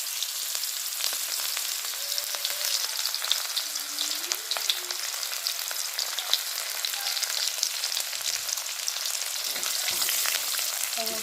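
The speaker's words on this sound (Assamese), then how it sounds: "ৰঙচুৱা হ'লেকৈ ভাজি লৈছোঁ।" Steady, dense frying sizzle from fish-curry ingredients, cut small, crackling in a hot pan for Assamese fish curry; it runs continuously throughout at moderate loudness with faint occasional clinks and no talking.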